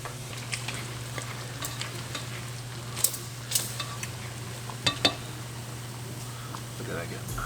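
Onion, garlic, shallots, serrano and corn sweat in rendered bacon fat in a pot. A soft sizzle runs under a spoken voice, broken by occasional spoon stirs and sharp clinks against the pot.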